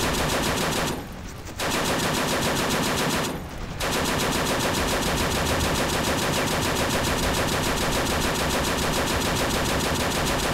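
A .50 caliber machine gun fires in Men of War: Assault Squad 2 in long, relentless bursts of rapid, loud shots, broken by two short pauses near the start before hammering on continuously.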